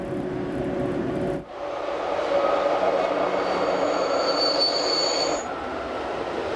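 A Glacier Express train climbing through the 662-metre Rhaetian spiral tunnel near the Albula Viaduct, its wheels squealing steadily in a loud, enclosed rumble with a high metallic screech that rises and then fades.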